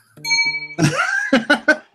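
A bright electronic bell ding, like an email notification chime, rings out clearly with sustained tonal overtones, followed by people talking and a few short bursts of voice.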